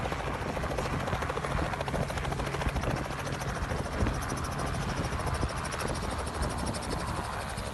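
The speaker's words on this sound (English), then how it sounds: "the helicopter's still running" A helicopter engine and rotor drone steadily throughout, loud and continuous with a fast chopping pulse, no other sounds standing out.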